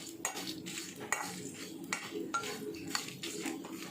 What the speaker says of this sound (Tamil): நல்லா ரோஸ்ட் பண்ணி எடுத்துக்கலாம்.